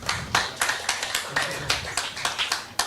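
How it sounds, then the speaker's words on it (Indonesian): An audience at a Kadin Economic Outlook 2025 event applauds steadily, a dense patter of many clapping hands with rhythmic swells, close and moderately loud, running for a few seconds with no talk over it. "kita berikan tepuk tangan sekali lagi Bapak Ibu"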